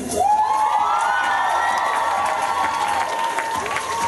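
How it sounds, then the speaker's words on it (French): Crowd at a high school talent show final applauding, with loud sustained clapping, cheering and a long high whoop or shout rising over the din. "On peut les applaudir."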